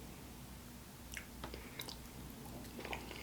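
Close, soft chewing on Colombian food, potatoes with a runny egg and chorizo, with faint wet smacks and crunches over a steady low restaurant hum.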